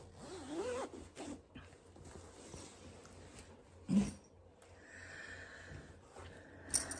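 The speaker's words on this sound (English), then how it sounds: "sorry about the zips, I'm trying to do them quietly" Zippers on thread storage bags are pulled open and shut in a few short, rasping strokes at close range, with a quiet room and handling noises in between.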